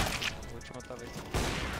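Rapid bursts of Counter-Strike: Global Offensive gunfire crackle through a dense, noisy mix, with a louder volley near the end and some voices faintly underneath.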